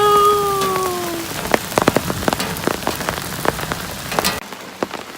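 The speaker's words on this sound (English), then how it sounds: "It's raining." Steady rain patters on a tent, with sharper drops striking close by, while a faint tone fades out early on.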